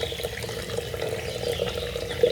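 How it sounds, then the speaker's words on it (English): Boiled water pours steadily over a coffee filter at a small coffee producer in Concepción de Ataco, El Salvador, a continuous close splashing stream with no talk. "We use boiled water, Okay. and I clean in the filter with boiled water."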